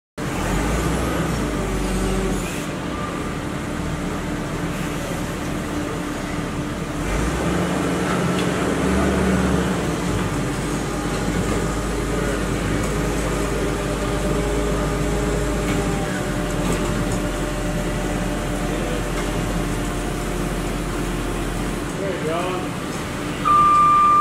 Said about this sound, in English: Then one more from right to left with just a partial directional transition of the caster wheels.